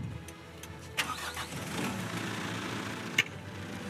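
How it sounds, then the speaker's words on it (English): An Aebi municipal machine fitted with a front flail mower starts its engine, with a brief crank and then a quiet, distant idling rumble and a couple of sharp knocks. "So you can start the engine and go ahead to the other side."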